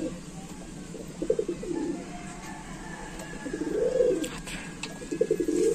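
Saharanpuri, Lal Jiriya and Kala Sabuj pigeons for sale in Canning, West Bengal, cooing in several close, soft, rolling bursts over a low background hum, with faint chirps mixed in.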